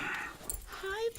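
A puppy whimpers with soft, high whines close by, mixed with a person speaking and faint background music.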